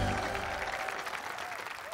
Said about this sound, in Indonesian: Kita kasih tepuk tangan dong buat mereka bertiga sih.